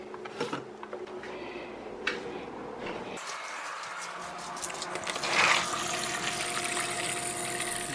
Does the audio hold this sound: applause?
no